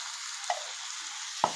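Ground masala spices fry in oil in a pan for a paneer dish, a steady, fairly quiet sizzle with two short metallic taps of a spoon against the pan, one midway and one louder near the end.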